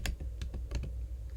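A few light key presses on a computer keyboard, quick soft clicks close by in a quiet room, with no talking.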